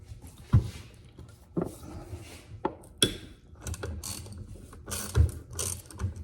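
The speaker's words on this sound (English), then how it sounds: "Start by taking these bolts off right here, and hopefully they don't break." A ratchet wrench with a 10 mm socket clicks in short bursts while bolts are loosened on a car, several separate ratcheting runs with thuds between them, close and clear.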